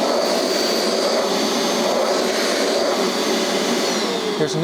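A Bissell Little Green Pro portable carpet cleaner runs with a loud, steady whirring motor and high whine, droning continuously at close range without pause.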